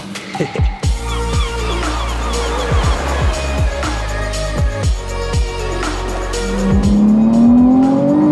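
A Ferrari 296 GTB drives along with its engine revving hard through repeated quick gear changes, then builds into a loud rising tone near the end, heard from close by with no talking.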